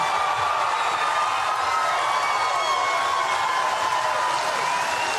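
A large crowd cheering continuously, a dense steady roar with scattered whoops that holds at an even, loud level throughout.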